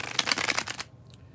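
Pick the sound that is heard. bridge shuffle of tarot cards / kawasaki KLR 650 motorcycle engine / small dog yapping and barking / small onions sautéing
bridge shuffle of tarot cards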